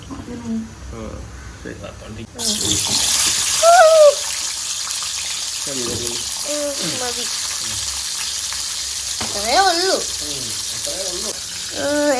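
Grated coconut roasts in coconut oil with a loud, steady sizzle that starts abruptly and continues, with stirring noises, while someone talks at intervals over it.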